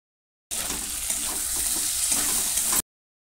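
Kashmiri chicken frying with sour yogurt in a pan on low heat, a steady, close hiss and sizzle lasting a couple of seconds with no talk.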